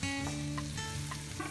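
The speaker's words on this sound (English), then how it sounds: "First we should fry this nicely." Prawns fry in a pan for a Chemeen undaputt dish, giving a steady close sizzle with a few soft stirring scrapes throughout and no talking.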